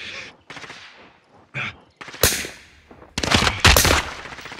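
Rapid bursts of automatic gunfire and sharp shots from Call of Duty: Warzone Rebirth Resurgence, loud and close, with broadband blasts clustering in the latter half amid game sound effects and a brief voice line.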